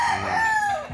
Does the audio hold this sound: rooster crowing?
yes